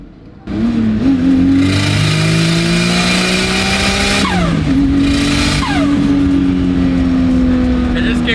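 An RB20-powered AU Ford Falcon ute revs hard under load, its six-cylinder note climbing steadily through a long pull, briefly dipping at a shift, then rising again, loud and close from inside the cab.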